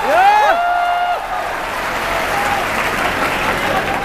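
Applause from the audience at a comedy poetry event, thick, sustained clapping with a brief whistle or whoop at the start, loud and steady to the end.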